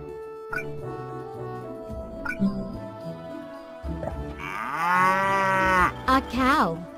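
A cow lets out a long, loud moo that rises and falls, preceded by light background music.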